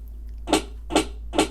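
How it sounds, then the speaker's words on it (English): Three sharp snare drum hits, evenly spaced about half a second apart, crisp and bright with nothing else playing. "So the snare that sounds like this,"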